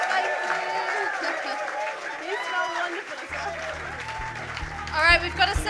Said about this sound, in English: we should give an absolutely massive round of applause to Owen and Jess and Eleanor and Wanye.